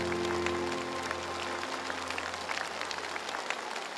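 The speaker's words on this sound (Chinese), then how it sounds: "好，掌声。" Studio audience applauding on a Chinese family-reunion TV show, a steady wash of clapping that stays loud across the whole stretch, with no talk over it.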